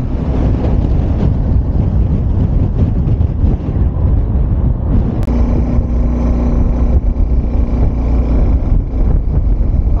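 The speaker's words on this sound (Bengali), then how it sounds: "আশা করছি বুঝতে পারছো কি লেভেলের বাতাসটা পাচ্ছি আমি, কন্ট্রোল করা যাচ্ছে না।" Strong wind roars continuously against a microphone on a moving motorbike on the mountain road toward Shimla near Narkanda, loud buffeting low rumble filling the whole stretch with no voices.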